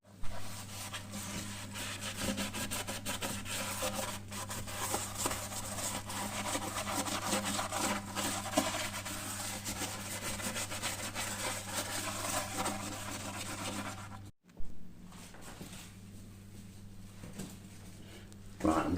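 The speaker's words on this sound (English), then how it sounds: "so I can safely just put my hand, scrub that by hand" A toilet bowl scrubbed by hand during a deep clean, heard as continuous close rubbing and scraping strokes over a steady low hum, with a person talking, before a brief break and quieter rubbing.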